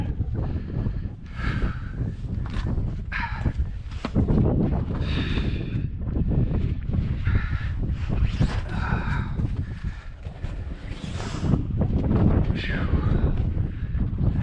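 Strong wind on a winter mountain trail in the Red Mountain Wilderness of Utah, roaring and buffeting the microphone in a continuous low rumble with gusty swells throughout, loud and close.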